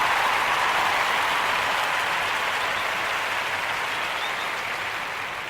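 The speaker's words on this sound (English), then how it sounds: "Want to give her a round of applause for doing a fantastic job" Audience applause at a congregation gathering, a steady wash of many hands clapping together, loud and sustained, slowly thinning toward the end with no speech over it.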